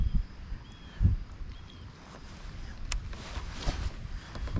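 Gusting wind on a lake buffets a fishing boat during fall bass fishing, a steady low rumble that swells in heavy gusts, with no talking.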